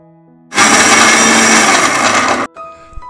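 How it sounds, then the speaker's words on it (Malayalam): A kitchen mixer grinder whirs loudly and steadily for about two seconds, grinding cumin, garlic, shallots, green chili and coconut, starting abruptly and cutting off sharply. "എടുത്തു വച്ചിരിക്കുന്ന നല്ല ജീരകം, വെളുത്തുള്ളി, ചുവന്നുള്ളി, പച്ചമുളക്, അതിനോടൊപ്പം 2 സ്പൂൺ തേങ്ങയും കൂടി ചേർത്ത് മിക്സിയിൽ ഒതുക്കിയെടുക്കണം"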